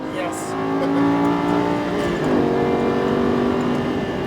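A Lamborghini Gallardo LP560-4 accelerates at full throttle, its loud engine note climbing steadily from inside the car.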